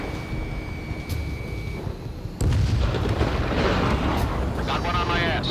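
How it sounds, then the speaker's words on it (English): Missile launch in a combat flight video game: a sudden loud whooshing roar bursts in partway through and sustains steadily, over a constant engine hum with radio chatter voices. "Missile away."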